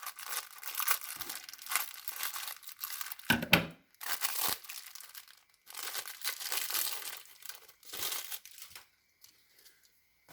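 Plastic toy packaging is cut and pulled open, giving bursts of crinkling and tearing plastic with brief pauses between them, close and moderately loud, with no talking.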